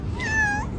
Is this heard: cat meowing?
yes